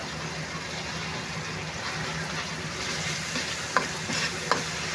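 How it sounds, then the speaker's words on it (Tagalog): Tomatoes crushed and stirred in a hot cooking pan for a Filipino tilapia and pechay dish, giving a steady close sizzle with scraping stir noises and a couple of sharp utensil clicks near the end. "ganyan po liligisin natin yung ating kamatis"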